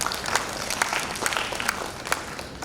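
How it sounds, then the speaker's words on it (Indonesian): A church congregation at a senior community service applauds, with scattered, uneven claps from a moderate crowd heard at middling distance, brief and without speech. "Kita beri tepuk tangan buat Tuhan."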